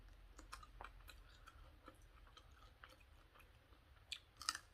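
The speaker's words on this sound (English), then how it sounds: "They're gonna see some chewing, ain't they?" Close, quiet crunching as crispy Publix chicken wings are bitten and chewed, with irregular crisp snaps and a couple of louder crunches near the end, and no talking.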